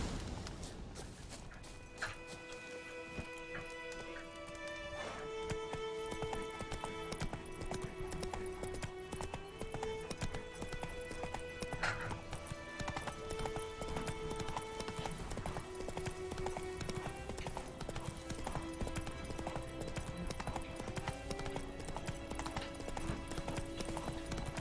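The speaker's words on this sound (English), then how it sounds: "Whoa there, Roach." Hooves clip-clop steadily from a horse galloping in The Witcher 3: Wild Hunt, a continuous rhythmic beat beneath sustained game music, with no talk.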